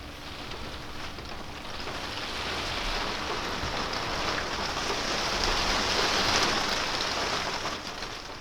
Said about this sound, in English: We make our last meal while the rain falls